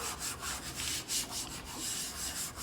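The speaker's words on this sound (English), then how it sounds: "You can use a debit card if you want, but usually I just rub it like that." A hand rubs firmly over a layered craft kit piece, giving repeated short scratchy strokes in a close, quiet back-and-forth rhythm.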